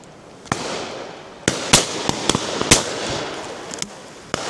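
Shotguns firing at high driven pheasants and partridges on a game shoot, a series of sharp cracks at irregular intervals, some near and loud, others more distant, over outdoor background noise.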